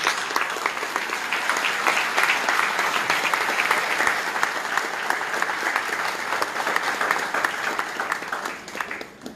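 Audience at a lecture on Umbanda breaking into long, steady applause, a thick, crowded clatter of clapping from a large hall that stays level before fading at the end.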